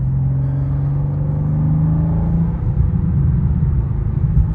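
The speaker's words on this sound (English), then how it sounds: "But you could hear the hops and burbles." A 2024 BMW M2 with a manual gearbox drives along, its exhaust droning steadily before the tone drops into rumbling pops and burbles off throttle, loud and close from inside the car.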